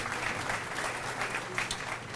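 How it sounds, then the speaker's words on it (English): A conference crowd gives a keynote speaker a round of applause, heard as a brief, steady wash of many clapping hands at moderate distance. "How about a round of applause for Mr."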